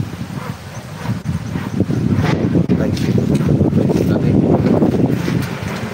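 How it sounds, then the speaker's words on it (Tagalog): Strong wind roars and buffets the microphone in a loud, continuous rush, with voices talking underneath. "Ang hangin, ang lakas ng hangin"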